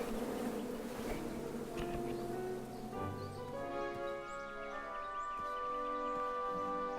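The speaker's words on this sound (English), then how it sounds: "I ruined the bees' day and that lovely meal" Bees buzz steadily in the King's Quest video game, a faint, continuous droning hum with several overlapping tones that thickens toward the end.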